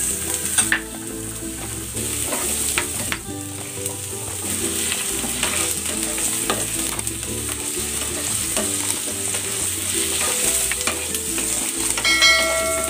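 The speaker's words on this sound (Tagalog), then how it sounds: "Iprito ko muna itong patatas at ang carrots." Potatoes and carrots fry in cooking oil with a loud, steady sizzle, accompanied by occasional stirring scrapes and metallic clatter from the pan.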